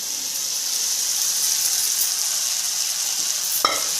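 Sago pearls stirred into soft tomatoes frying in oil for sabudana khichdi, a steady close sizzle with a faint clink near the end.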